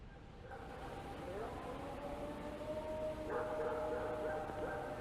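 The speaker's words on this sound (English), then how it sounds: "Look, this one says the 1994 Ohio howls." Faint, long wavering howls recorded in Ohio in 1994 rise and fall in the distance over a steady hiss, sounding like a far-off siren.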